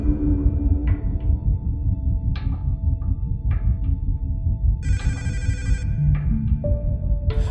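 A phone ringing after extension 453 is dialed in the video game I Am Milk: repeated electronic ring tones over a low steady hum, with a brighter, louder burst partway through and no talk.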